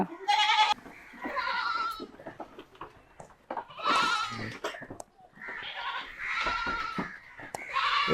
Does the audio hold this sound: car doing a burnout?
no